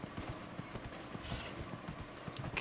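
Horse hooves clip-clop steadily in Dragon Age: Inquisition as a character rides, a brisk repeating rhythm of close, fairly loud footfalls over a busy game backdrop.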